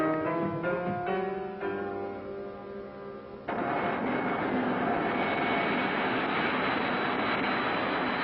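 A target drone aircraft roars overhead at White Sands, a loud, steady engine drone that shifts pitch and then swells into a broad, rushing roar that fills the rest of the moment.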